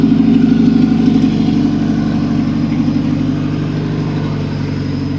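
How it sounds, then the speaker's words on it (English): A Honda Civic race car engine warming up at idle, a steady low throbbing rumble with a faint pulsing beat, close and fairly loud, easing slightly toward the end with no talk. "getting the Civic all warmed up right now"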